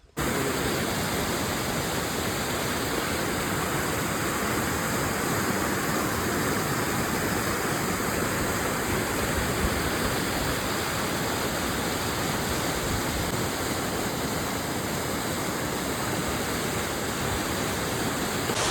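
Water rushes over a drain in a loud, constant flow, a dense unbroken roar that holds steady from start to finish.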